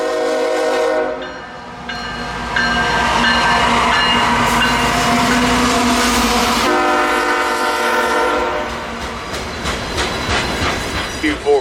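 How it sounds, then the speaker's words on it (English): CSX freight train L453 with locomotive 3248 leading rolls in north of Winston Yard, its horn sounding in long loud blasts over steady rumbling engine and rail noise, then wheels clacking as the cars pass. "arriving from Waycross is daily train L453 with engine"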